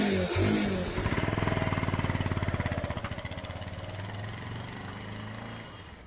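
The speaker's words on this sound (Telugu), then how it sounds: "నా బైక్ ఎక్కు." A motorcycle engine catches and revs up close, settling into a fast, steady chugging rhythm that slowly eases off as the bike pulls away.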